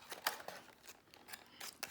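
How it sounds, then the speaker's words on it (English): Scissors snip through a plastic water bottle to shape a fish tail, with several quick, close crisp cuts and light plastic crinkling. "You can take your scissors and cut your tail if you want to."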